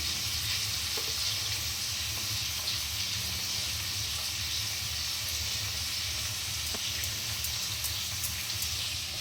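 Chicken frying in a pan for chilli chicken, a steady dense sizzle with faint clinks throughout, close and continuous, with no talking.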